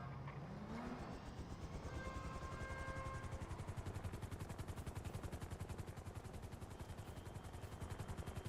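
Helicopter in a GTA-style roleplay video game: a steady rapid rotor chop pulsing evenly throughout, loud and close, with brief tonal whines early on and no talk over it.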